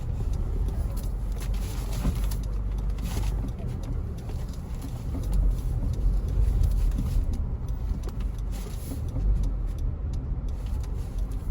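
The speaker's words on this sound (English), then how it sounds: "I don't think I want to stay in this traffic, you know." Busy, congested traffic at a Saturday market in Montego Bay, Jamaica: a dense, continuous roar of idling and creeping vehicles with street bustle, birds cooing nearby and occasional louder swells as cars pass close.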